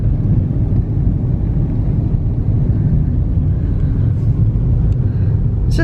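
A car cruising along a winding one-lane road between farm fields, a steady close engine and road rumble holding level throughout, with no talking.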